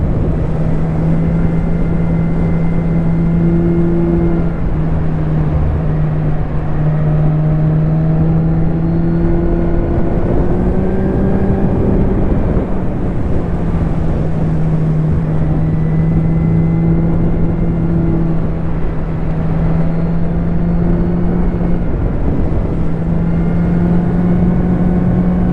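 Kawasaki Z1000 ABS motorcycle engine droning steadily while riding, a loud continuous low hum holding near-constant revs with slight rises and dips in pitch throughout, no talk over it.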